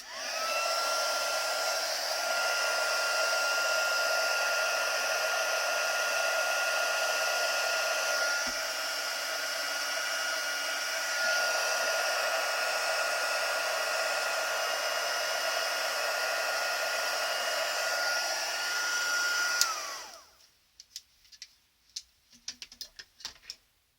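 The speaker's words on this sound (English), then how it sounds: "I need to preheat my heat tool" An embossing heat gun blows hot air in a steady, fairly quiet whirring hiss that runs for about twenty seconds, then cuts off, leaving faint handling clicks and taps.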